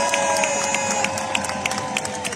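Large outdoor crowd at a Paris rally in front of the Hôtel de Ville, cheering and applauding steadily, with sustained shouts and scattered claps filling the space at a moderate distance.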